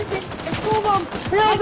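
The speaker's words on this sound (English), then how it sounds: "He's shooting me!" Gunfire in the Fortnite video game comes as a quick burst of several shots in a ragged rhythm, with players' voices talking and shouting over it.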